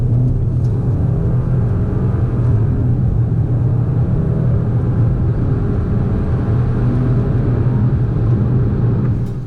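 A 2015 Audi Q5 SUV, stock, pulls hard from 30 to 70 mph, its engine a loud, steady low rumble and road roar heard from inside the cabin throughout, with no talking.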